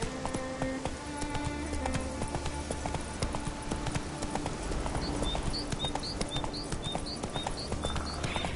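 Horse hooves clip-clop steadily in The Witcher video game, a rhythmic galloping patter carried over a busy game soundscape with bird chirps flickering in the background.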